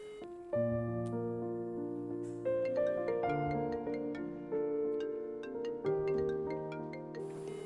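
A melodic phone tone plays while an outgoing call waits to be answered, several short tuneful phrases repeating at a moderate, fairly quiet level with no voices.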